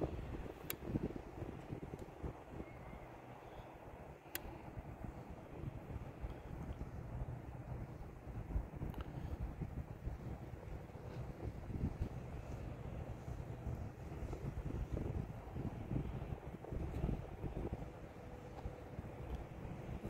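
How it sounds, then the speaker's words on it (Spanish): Strong wind roars steadily over the treetops outdoors, a continuous loud rushing buffet against the microphone with gusty swells and no one speaking. "el viento muy fuerte"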